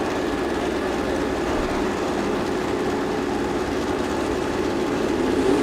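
An EMPI 1641 engine running on a dyno at the EMPI engine battle in Anaheim, California makes a steady, loud, dense mechanical roar with no talking over it.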